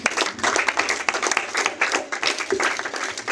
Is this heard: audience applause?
yes